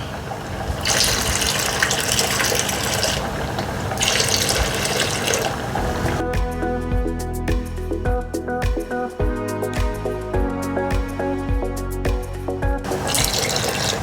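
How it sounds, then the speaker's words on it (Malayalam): Milk being poured into a pot of boiling rice for Kerala palpayasam makes a steady liquid stream and gush, then gives way to dripping and bubbling splashes, close and fairly loud with no talk. "ഈ സമയത്ത് ഇനി കുറച്ച് പാലും കൂടി ഒഴിക്കാം."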